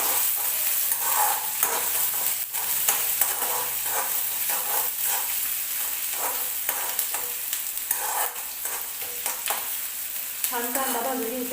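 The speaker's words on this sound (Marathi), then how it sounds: "कांदा टाकून घेऊ आपण कांदा छान परतून घ्यायचा आहे" Onion sautés in a pan for a dry chickpea (chole) dish, giving a continuous close sizzle broken by repeated scraping stirs, with no voices.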